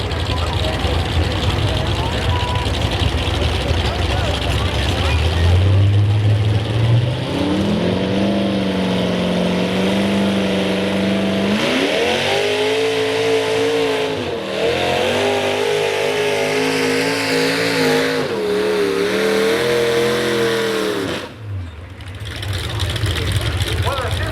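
A heavy tractor engine at a tractor pull revs up hard and holds a loud, rising roar, its pitch shifting and surging over a long pull before dropping off.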